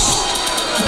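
A crowd cheering in the street-fighting game Def Jam Fight for NY, a brief, loud, dense wash of roaring voices with no distinct words.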